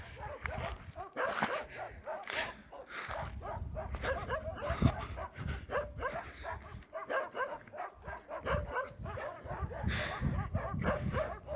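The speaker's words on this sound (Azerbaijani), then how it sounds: "bu itlər boş yerə hürürlər" Dogs bark at night in a village, a dense, uneven run of barks, yips and whimpers at mixed distances that goes on throughout, with low rustling underneath.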